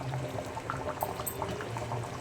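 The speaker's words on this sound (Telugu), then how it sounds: "చూడండి, బాగా ఉడుకుతుంది అన్నమాట చేపల కర్రీ." Fish curry bubbling in a pot, a steady close simmering hiss with small popping bursts throughout, no talking.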